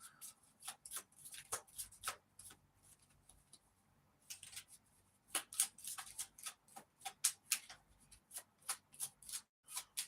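A small 36-card deck is shuffled in quick, crisp bursts of riffles and snaps, with short pauses between runs, close and fairly quiet.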